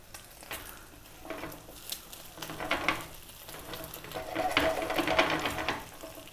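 Egg and pork fried rice stir-frying in a pan, with a steady close sizzle and scraping as the rice is pushed around, swelling louder in uneven bursts.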